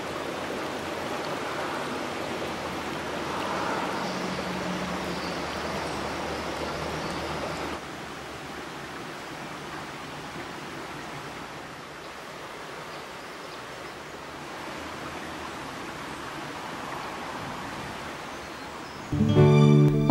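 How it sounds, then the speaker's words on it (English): A mill stream flowing through woodland makes a continuous soft rush of running water, even and moderately close, that eases slightly after the first few seconds before a brief louder burst at the very end. "A delightful footpath follows the mill stream through woodland and eventually to the mill pond."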